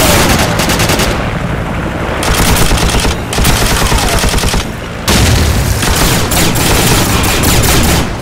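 An M60 machine gun fires in Call of Duty 4 in loud, sustained automatic bursts with a few brief pauses. Dense gunfire and impacts fill the mix from start to finish.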